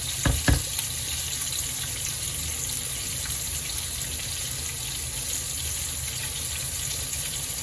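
Meat curry with spices, fenugreek leaves and tomato fries steadily in a pan, a close, even sizzle that opens with two sharp knocks of a utensil and continues without voices.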